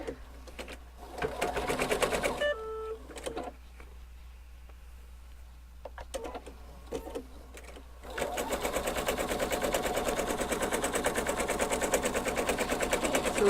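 An embroidery machine stitches decorative details onto fabric for a shark finger puppet bag, running in a fast, steady mechanical chatter, pausing briefly midway and then resuming louder and continuous.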